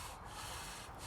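A wooden bow drill spindle grinds steadily in its notch while making a fire ember, producing a smooth, continuous rubbing hiss with slight rhythmic surges from the back-and-forth bow strokes, close and alone.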